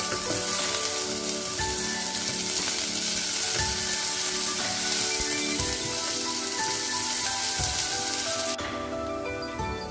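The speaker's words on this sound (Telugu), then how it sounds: "ఆనియన్ వేసేసి బాగా ట్రాన్స్పరెంట్ వచ్చే వరకు ఫ్రై చేసుకుందాం" Onion pieces sizzle loudly in hot oil with cloves, cinnamon and cardamom, a dense steady crackle with occasional stirring scrapes, alone and close throughout.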